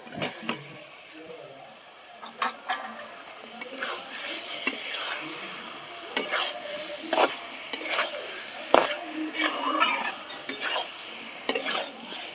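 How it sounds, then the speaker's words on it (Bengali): Fried pointed gourd and potatoes go into a frying pan and are stirred, bringing a steady sizzle with frequent sharp scrapes and clanks of a spatula against the metal pan. "ভেজে রাখা পটল আর আলু দিয়ে দিচ্ছি"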